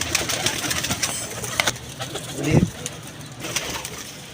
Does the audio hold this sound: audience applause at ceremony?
no